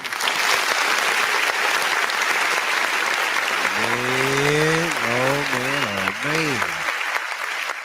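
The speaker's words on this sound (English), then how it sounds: "give a round of applause to Chronicles of Judah" Audience applause for Chronicles of Judah fills the clip as a steady, loud wash of clapping, with a voice speaking and rising in pitch over it partway through.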